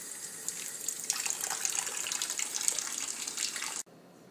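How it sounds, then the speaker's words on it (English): Tap water runs steadily over a package of frozen grated cassava to thaw it, a close, splashy stream that cuts off abruptly near the end. "We usually start off by thawing it out in some running water."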